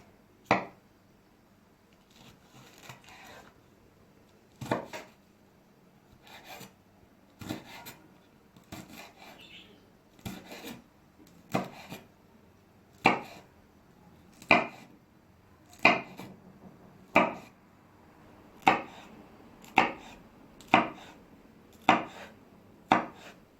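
A knife chops peppers on a cutting board for homemade pizza: a steady series of close, crisp thuds, irregular at first and then settling into an even rhythm of roughly one cut per second, with no voices.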